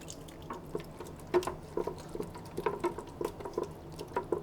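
Lemon juice is squeezed from half a fresh lemon into a smoked potato salad mix, giving soft scattered drips and small wet splats over a quiet background, close and faint, with no talking.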